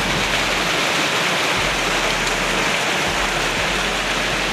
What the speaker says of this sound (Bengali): একদম ঝুম বৃষ্টি হইতেছে